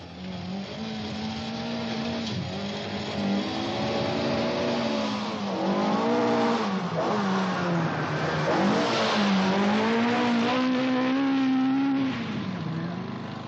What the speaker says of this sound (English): The Escort BDA took 8 years to develop, and at the moment is proving itself the fastest rally car in the world.